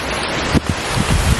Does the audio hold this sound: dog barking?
no